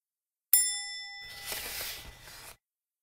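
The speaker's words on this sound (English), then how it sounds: "Alex taps a tin can with a stick. Tap, tap." A stick strikes a tin can once, giving a bright metallic ding that rings on with a clear tone, followed by a rougher rattling clang that fades after about two seconds.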